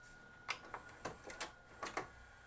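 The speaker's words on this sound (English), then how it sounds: "now it is fast forwarding and rewinding" A Magnavox DV220MW9 VCR/DVD combo fast-forwarding and rewinding a tape, heard as faint, close mechanical clicks and ticks in irregular short bursts over a quiet background.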